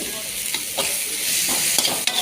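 Carrot and cabbage stirred in a frying pan, a loud bright hiss of frying with several scraping strokes of the utensil, close and with no voices.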